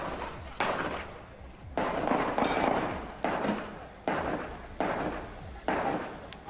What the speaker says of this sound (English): These seem to be gunshots.